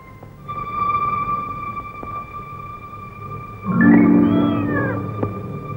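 A cat in a Telugu film scene gives one drawn-out, wavering meow, fairly close and clear, over a quiet steady background hum.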